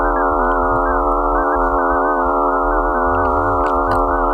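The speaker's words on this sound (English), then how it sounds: "I would like to play the nightmare sound of Phobos, one of Mars's 2 moons" Sonified signal from Phobos, one of the two moons of Mars, rendered as a loud, steady droning stack of harsh tones with a low rumbling underneath. It holds continuously with no pauses and no voices.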